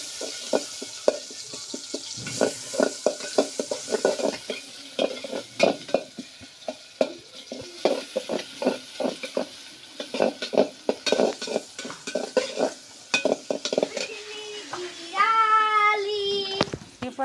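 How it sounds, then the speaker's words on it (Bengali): Spices fry in hot oil in a pan for a lentil dish, a close sizzle broken by rapid scraping and clattering stirs of a spatula, with a brief clink of cookware near the end. "দিয়ে এখন চালানিটা আমি সুন্দর করে ভাজে নিব।"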